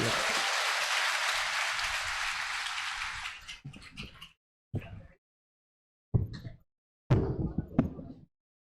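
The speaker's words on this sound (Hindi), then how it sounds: "मेरे घुटने में चोट है तो मुझे बैठ के पढ़ने की अनुमति आप ताली बजाकर दे दीजिए।" Audience applause at a Hindi poetry gathering in Prayagraj, a sustained loud burst of clapping lasting about three seconds before fading into scattered, short bursts of sound separated by silence.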